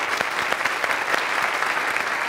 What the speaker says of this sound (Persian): پس تشویق کنیم